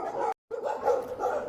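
Street dogs bark and yap close by in a loud, continuous, strained outburst, broken once by a brief silence.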